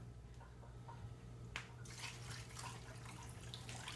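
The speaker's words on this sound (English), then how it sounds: "The next step is I'm gonna fill it with water." Water pouring steadily into a large crock pot for chicken stock, a soft continuous splashing rush that grows slightly fuller partway through, heard up close at low volume.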